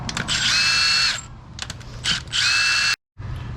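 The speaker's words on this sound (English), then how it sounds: "We broke loose all the head bolts, now we're just removing them" A power tool spins out cylinder head bolts on a 2005-2010 Scion tC engine with low compression, two loud close whirring bursts separated by a short pause and clicks, ending abruptly.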